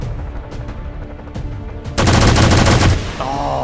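A loud burst of rapid gunfire from a soldier in XCOM 2 erupts after a stretch of quieter game ambience, a dense rattling volley lasting about a second before fading.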